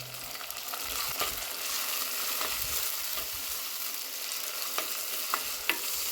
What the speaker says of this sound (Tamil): எந்த குழம்பாக இருந்தாலும் வெங்காயம் நல்லா மசிஞ்சு வர அளவுக்கு வதக்கணும்